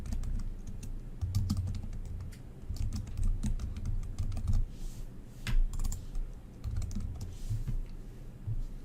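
Someone types a chat message on a computer keyboard, a close, continuous patter of key presses with irregular rhythm and occasional heavier strokes, carrying on for several seconds without talk.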